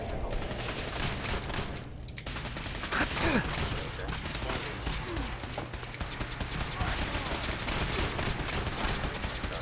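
Dense video game gunfire rattles in rapid, sustained bursts that fill the whole stretch, loud and continuous like a firefight, with a voice briefly calling out amid the shots.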